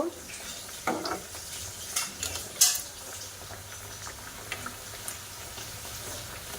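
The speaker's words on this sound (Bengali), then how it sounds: "মিষ্টিগুলো দিয়ে দেব তেলের মধ্যে" Khasta sweets fry in hot oil with a soft, steady sizzle, broken by a few sharp clinks and scrapes as the pieces are stirred and turned in the pan; quiet and close, with no talking.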